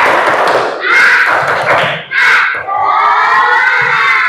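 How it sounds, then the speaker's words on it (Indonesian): Schoolchildren in a classroom perform a spirit clap chant, shouting together in loud bursts punctuated by sharp group claps and thuds, followed by a sustained chorus of young voices. "Tepuk semangat."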